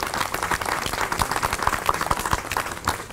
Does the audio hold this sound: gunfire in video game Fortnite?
no